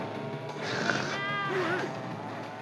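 A cat gives a drawn-out meow followed by a second wavering call, moderately near over a constant background hum during a snowy-tyre kart race.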